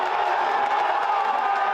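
A crowd in a Sydney bar cheers and shouts while watching the Super Bowl in Las Vegas, forming a dense, loud, continuous roar of many voices close by.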